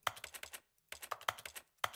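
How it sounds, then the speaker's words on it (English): Keyboard typing in The Stanley Parable: Ultra Deluxe comes in close, crisp bursts of rapid clicking keystrokes, each burst separated by a short silence. "Why am I typing in thin air?"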